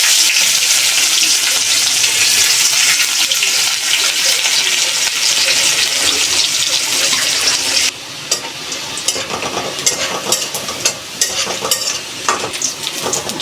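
Onions fry in oil with cumin and bay leaf, giving a loud, continuous sizzle up close. About halfway through it drops slightly in pitch, and sharp spoon-and-pan stirring clinks cut through the hiss.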